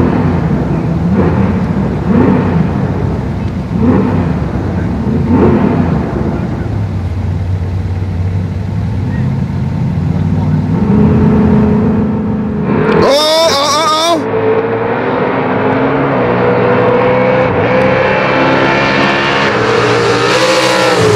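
A Ford Mustang races down a drag strip in a grudge race, a loud engine roar that rises in pitch with a sharp high screech partway through, while crowd talk carries underneath.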